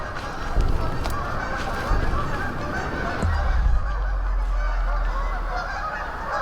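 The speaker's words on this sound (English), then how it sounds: "These geese are freaking out." A flock of geese honks continuously and loudly, a dense overlapping chorus, with a low engine rumble joining partway through.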